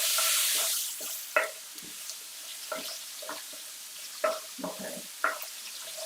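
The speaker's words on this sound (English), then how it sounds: "so just frying it off." Aubergine and tofu curry ingredients sizzling in a pan, starting with a loud hiss that settles to a quieter fry, punctuated by several clinks and scrapes of stirring.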